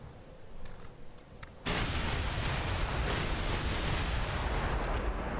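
Artillery fire in a Gettysburg strategy video game thunders in as a sudden loud barrage, then rumbles on continuously as a dense, distant-sounding roll of cannon booms.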